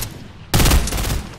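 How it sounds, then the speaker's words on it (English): A single sharp sniper rifle shot rings out in a solo showdown video game match, a loud broadband crack followed by a sustained, rumbling tail of game noise. "And he sniped."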